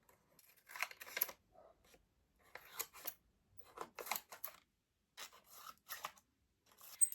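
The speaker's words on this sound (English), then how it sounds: "You want to grab your scissors and basically cut down into little," Scissors snip through wrapping paper in quick bursts of several cuts, pausing between each run, close and fairly crisp.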